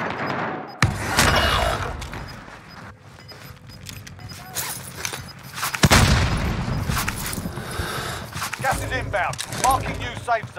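Rapid gunfire and heavy shotgun blasts burst out in a Warzone video game match, loud and repeated. Explosive booms break up the shooting while players talk over the action.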